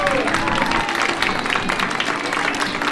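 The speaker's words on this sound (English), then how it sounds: "let's give him a big round of applause" Crowd applause at an outdoor RC jet rally after a flying lawnmower model lands, steady dense clapping filling the whole stretch with a voice speaking over it.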